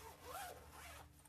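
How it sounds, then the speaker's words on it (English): A Thirty-one hanging traveler's case being zipped closed: one quick, close zip pull lasting about a second, with a rising and falling rasp and no talk. "Then it zips up."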